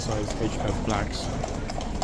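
Horse hooves clip-clopping on pavement at Horse Guards in London, a few irregular clops close by, mixed with crowd chatter and voices talking over them.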